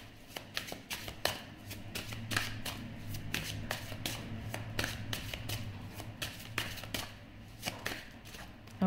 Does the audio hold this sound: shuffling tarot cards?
yes